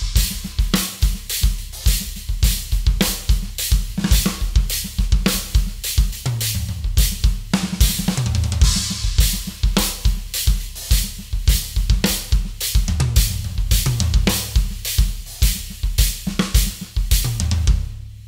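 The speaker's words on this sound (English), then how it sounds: "Let's check out a groove with this stack." Full drum kit groove with a stack of two pressed-together crash cymbals, steady loud rhythm of kick, snare and trashy cymbal hits played continuously, no talking.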